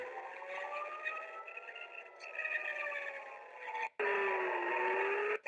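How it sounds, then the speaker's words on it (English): A wailing air raid siren over Tel Aviv during a missile barrage rises and falls in long sustained tones, steady and loud, briefly cutting out before resuming. "Sirens sounding over Tel Aviv as a barrage of missiles hit the nation."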